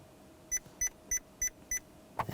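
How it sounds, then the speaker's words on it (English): Five short, evenly spaced electronic beeps chime from a 2004-2012 Chevrolet Colorado 3.7L I5 dashboard after an oil life reset, followed by a brief click, all against a quiet background hum. "until you hear the beeps"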